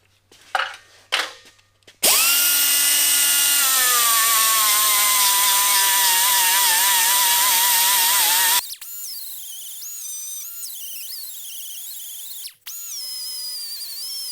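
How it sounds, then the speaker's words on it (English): A power tool grinds down welds on a Harbor Freight end cabinet welding cart, a loud, steady high-pitched whine for several seconds that then drops to a lower, wavering tone, close by and alone. "I'm going to smooth off the welds."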